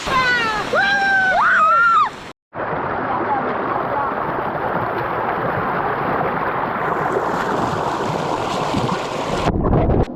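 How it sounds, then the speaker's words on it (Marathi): A small waterfall near Devrukh in the Konkan roars with a constant, close rush of falling water, briefly cut off once, while high excited voices sound over it at the start. "सुंदर असा धबधबा आहे"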